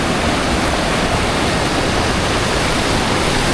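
Ice cold mountain stream rushing under a bridge on the trail to Annapurna Base Camp in Nepal, a loud, steady wash of broadband water noise filling the whole stretch without pause.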